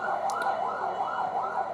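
An ambulance siren wails through a large political protest rally, a loud, close, continuous rising-and-falling tone that repeats every half second or so, with no voices over it.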